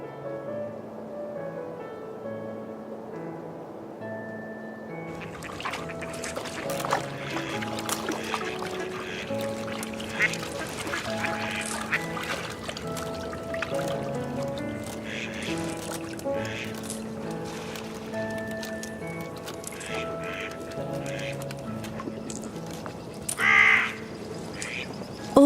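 Birds call around a winter pond on the Chambord estate, with scattered caws and quacking-like cries over a steady outdoor ambience and one louder call near the end; no one speaks.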